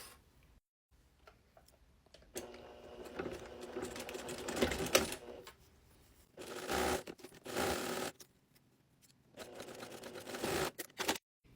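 A sewing machine runs in three bursts of rapid mechanical stitching across fabric over zipper teeth, separated by short pauses and quiet handling clicks.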